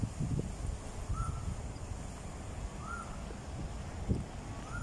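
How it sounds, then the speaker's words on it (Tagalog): A crow caws three times at even spacing, moderately distant, over an outdoor street ambience with wind and faint background noise on a walk from Quarry Bay toward North Point. "Di ba may ibon pa?"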